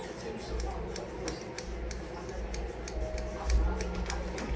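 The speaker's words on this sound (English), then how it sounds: "Upward and just cut. Cut, cut, side, side, cut," Scissors trimming 4C hair give a regular run of close, sharp little snips over a steady low background hum, with no talking.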